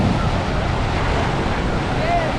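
Caribbean sea waves washing onto a soft sandy beach, a constant loud rushing wash mixed with wind buffeting the microphone.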